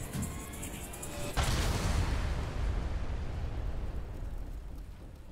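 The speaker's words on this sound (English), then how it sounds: "That was kind of a cheap explosion." A deep, loud explosion bursts in the video game AI: The Somnium Files - nirvanA Initiative, followed by a long rumbling roar that slowly fades over several seconds, with no talk over it.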